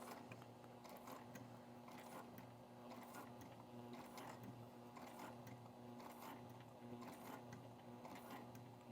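A sewing machine stitches a fabric bag with a steady, close mechanical whir and a regular pulse of needle bursts. The sound runs without a break, and no one talks.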